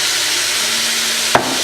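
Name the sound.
beet greens sautéing with beets in a pot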